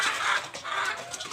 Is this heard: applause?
no